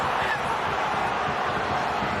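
Stadium crowd at a New York Red Bulls vs. Vancouver Whitecaps soccer match booing a heavy midfield challenge, a dense sustained roar of disapproval filling the whole moment.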